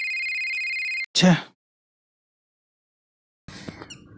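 A phone rings out unanswered in a Tamil short film: a steady electronic ring tone holds for about a second, then cuts off with a short burst, followed by silence and later faint background noise.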